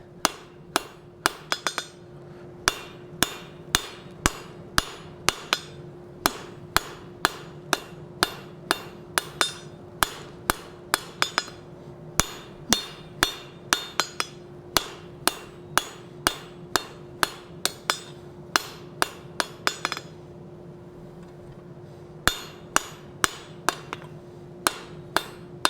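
Hot steel stock struck by hand hammer on an anvil while forging a Nordic wolf head door knocker: a long series of sharp, ringing metallic blows in a steady rhythm, close and loud, with brief pauses between bursts.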